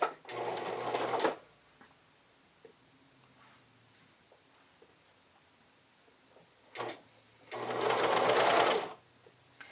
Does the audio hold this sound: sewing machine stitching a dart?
yes